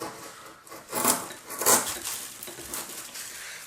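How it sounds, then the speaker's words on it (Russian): A woman's Yakut knife cuts through meat on a board, making two distinct scraping, rasping strokes with a scratchy, woody quality. Quieter rubbing sounds follow between and after the strokes. "нарезаем мясо. Ножом, женским ножом, женским якутским ножом."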